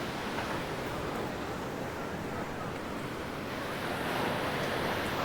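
Ocean waves surge and wash continuously beneath Huntington Beach pier, a broad steady roar with wind buffeting the microphone and no voices.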